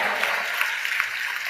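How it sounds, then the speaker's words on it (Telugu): A congregation claps during a special prayer meeting service, a dense, steady patter of many hands sustained throughout at moderate loudness. "మిగిలిన వాళ్ళు చప్పట్లు కొట్టి దేవుని మహిమ పరుద్దాం."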